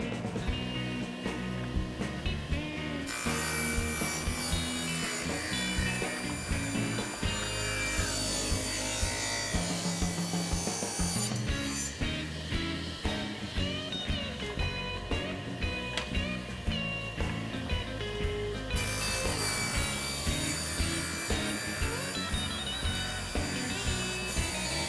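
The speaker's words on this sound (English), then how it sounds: "Now we need to rip 2 stretchers at 2 inches wide." Wood being sawn to rip two 2-inch-wide stretchers for a patio planter table, a continuous rasping cut that runs steadily throughout, fairly loud and close, with a layered, tonal backing.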